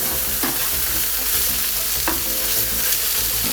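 Thick pork steaks fry steadily in a hot pan, a dense continuous sizzle with a few brief stirring or shifting clicks, close and loud with no talking.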